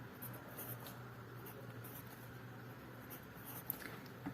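A pen scratches steadily across paper while drawing carbon atoms for a chemistry diagram, a soft continuous scribble heard alone over a faint low hum.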